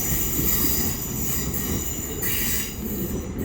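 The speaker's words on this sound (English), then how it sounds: "we've got one of TransPennine's 800s here, 802-210, with a service off to York" A TransPennine Class 802 unit, 802-210, rolls through Doncaster station with a steady, loud rumble, and high wheel squeal rises over it throughout.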